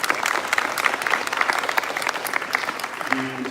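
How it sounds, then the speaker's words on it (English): A town hall audience with a congressman applauds police officers, a crowd of hands clapping briskly and fairly close, with some voices talking faintly underneath and a low hum near the end. "Maybe give them a round of applause."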